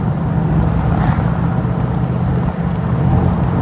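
A V8 car engine drones steadily while cruising on roads into the Derbyshire Peak District, a loud, constant low rumble with road noise and no break in the sound.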